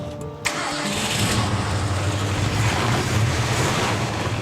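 Rebuilt Ford Mustang engine in a classic car cranking briefly then catching and roaring, settling into a loud, steady, rumbling idle close by.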